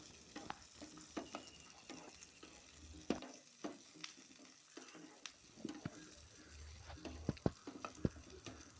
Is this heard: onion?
yes